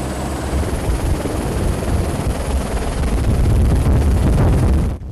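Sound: helicopter

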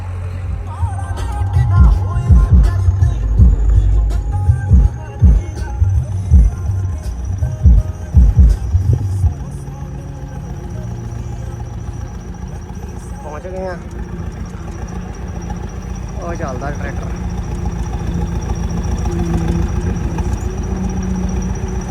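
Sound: tractor engine running in field

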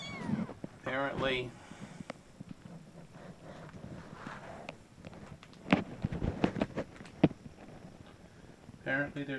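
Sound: kitten meowing

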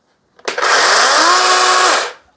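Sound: DeWalt 20V MAX XR 12-inch cordless chainsaw running

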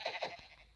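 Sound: sheep bleating in Minecraft video game

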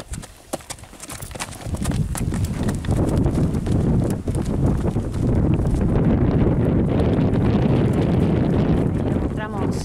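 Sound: horse hooves clip-clopping

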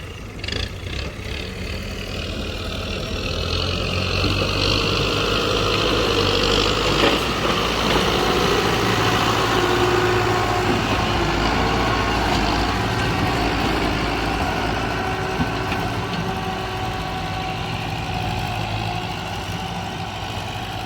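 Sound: tractor engine running

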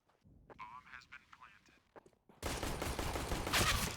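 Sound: gunfire in CS:GO video game

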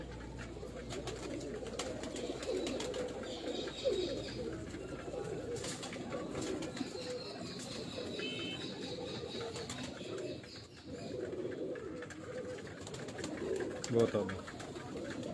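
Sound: pigeons cooing on a rooftop

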